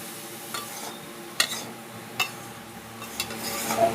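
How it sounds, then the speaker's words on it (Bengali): Bottle gourd pieces stir-fried with potatoes in a pan for an egg and gourd curry: sharp spatula scrapes and knocks come every second or so over a soft, steady sizzle. "লাউগুলো দিয়ে আমি আরও 3 মিনিটের মতো কষিয়ে নেব।"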